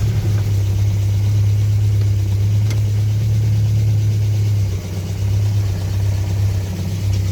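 A Land Rover Series 2a with a 2¼-litre petrol engine, running after more than ten years sitting, holds a steady, loud idle close by, with a continuous low drone that barely varies throughout.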